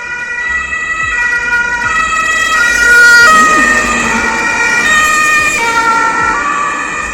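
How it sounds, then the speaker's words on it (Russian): An ambulance siren wails steadily with a rising and falling electronic tone, loud and close as it passes, over faint road noise. "Всегда ездят в паре. Скорая и пожарка."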